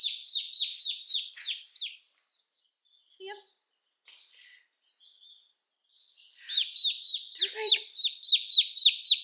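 Young turkey poults chirp in rapid, high, rhythmic peeps, loud and close. The calls pause briefly while a person speaks, then return in a steady run of chirps.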